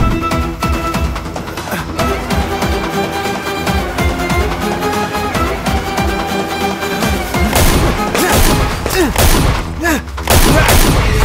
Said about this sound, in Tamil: சுடுங்க சார்.